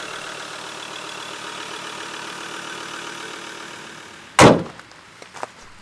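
A 3.2-liter, 200 hp pickup truck engine idles steadily with a low, even rumble, then a loud sharp clunk and a couple of smaller knocks near the end.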